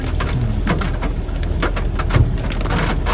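Steady rain falls on a rural route to durian and rambutan orchards in Thailand, a loud, dense, continuous hiss of drops hitting surfaces nearby, with no voices over it.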